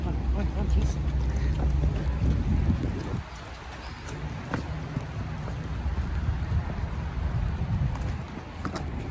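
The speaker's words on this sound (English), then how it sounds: "as soon as we get out of the car, it starts Raining" Rain falls outside a Buffalo Wild Wings restaurant, a steady close patter on surfaces with a few sharper drops, while people talk over it.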